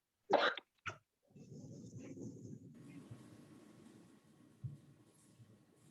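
An asthmatic person coughs during a retirement board meeting, two sharp close coughs in quick succession followed by quiet room noise and a faint breathy throat sound.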